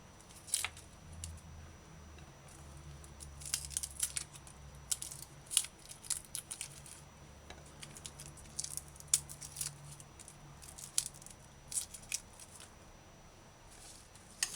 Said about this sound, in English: peel garlic, cut off ends